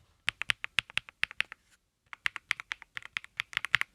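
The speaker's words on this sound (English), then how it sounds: "This is the keyboard." A new gift keyboard being typed on, crisp rapid key clicks in two bursts separated by a short pause, close and clear with no talking.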